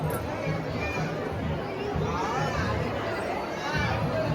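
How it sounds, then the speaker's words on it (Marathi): Crowd chatter along the bus line at Ekvira temple on a busy Friday, a steady murmur of many voices with footsteps and movement, and a nearby person talking over it. "भरपूर गर्दी आज, शुक्रवार आहे."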